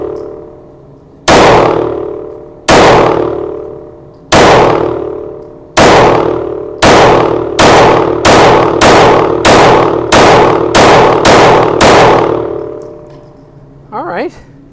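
A Palmetto State Armory Micro Dagger pistol fires about twelve loud, sharp shots outdoors, at first widely spaced and then in a faster, even rhythm, each crack ringing out briefly before the next.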